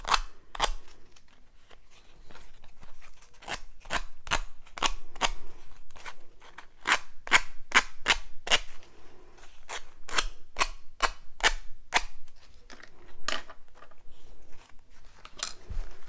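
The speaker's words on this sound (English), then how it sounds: "I'm literally just going right over the edges, and that's going to tear away all that extra paper we don't need." Excess paper being torn away along the edges of wooden bookmarks, heard as a quick run of sharp, close crackling rips and snaps, irregular but dense, with no talk.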